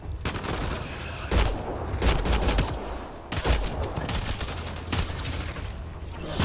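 Gunfire in Mass Effect Andromeda, rapid volleys and single heavy shots in uneven bursts, loud and close over a rumbling combat soundscape.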